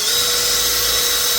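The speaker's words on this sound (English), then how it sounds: "3/32, I believe, drill bit" A power drill with a small 3/32 bit bores holes, giving a loud, close, steady high whine that runs without break and with no talk.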